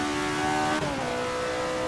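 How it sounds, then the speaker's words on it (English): Alfa Romeo 33 Stradale from the mid-1960s in Assetto Corsa, its high-revving engine (9,000 RPM) holding a loud, steady howl that dips briefly and settles into a sustained drone, heard alone without talk. "Listening to this thing rev is where it starts to get really unique."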